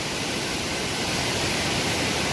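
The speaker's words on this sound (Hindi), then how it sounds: "एक झरना, जलप्रपात" A waterfall at the Parsakhola picnic spot near Korba pours in a dense, steady hiss of rushing water, loud and close, with no voices over it.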